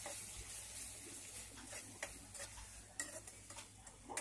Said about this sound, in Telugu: ఇప్పుడు కర్రీలో కలిపేసుకుందాం